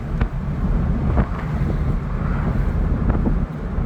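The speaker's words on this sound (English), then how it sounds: "Apart from wind, it's not noisy." Steady, loud wind buffeting in an open-top Toyota MR2 Mk3 cruising with the roof down on an A-road, a continuous low rushing roar with occasional gusts and no voices.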